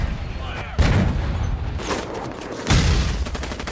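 Artillery fire in the war film We Were Soldiers: heavy booming blasts with broad rumbling noise, two strong impacts about two seconds apart, loud and continuous with battle din throughout.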